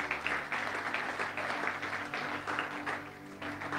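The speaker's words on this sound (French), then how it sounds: "Est-ce qu'on peut acclamer pour le roi des rois?" A church congregation claps and applauds for the King of Kings, a dense, steady wash of many hands at moderate distance, without clear talk.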